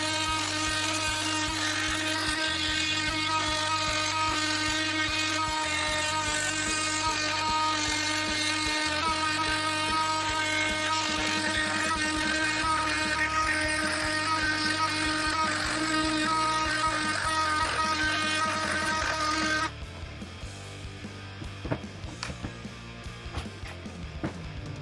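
An oscillating tool with a WonderBlade grinds and buzzes through a board full of nails, a loud continuous rasping whine for about twenty seconds before cutting off to quieter clatter.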